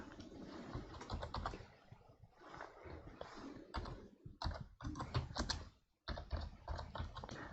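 Computer keyboard typing in quick bursts, close and clear, with brief pauses and one short silence before the keys resume at a brisk rhythm.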